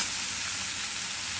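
Vegetables frying in oil in a pan for a stuffed chapati filling, a continuous bright hiss of sizzling, steady and close with no talk over it.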